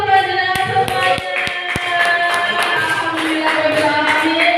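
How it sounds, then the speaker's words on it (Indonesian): A handful of sharp, separate claps ring out near the start, then give way to tonal singing or chanting voices that carry on at a steady level. "tepuk tangan untuk pelajaran semuanya"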